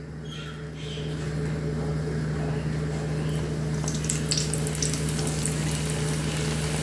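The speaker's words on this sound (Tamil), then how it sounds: "நாங்கள் செஞ்ச கறியை வச்சு இப்படி சுற்றி இதை நாங்கள் வடை பொரிச்ச ஆயிலே தான் பொரிச்செடுக்க போகிறோம்" Keema-stuffed samosas deep-frying in vada oil give a steady, close, continuous bubbling sizzle with a constant low hum underneath, no voices.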